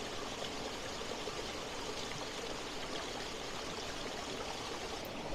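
A waterfall on the Cascade Waterfall Trail in western Massachusetts, near the Hoosac Tunnel, rushes as a steady, dense roar of falling water that stays even and unbroken, with no voices.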